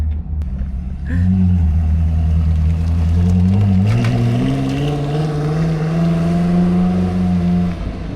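A Koenigsegg Jesko supercar, just after a cold start, pulls away with a loud, deep engine drone whose pitch climbs steadily as it accelerates, holding strong for several seconds before easing slightly.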